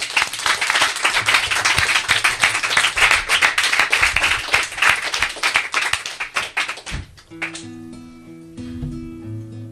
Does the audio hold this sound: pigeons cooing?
no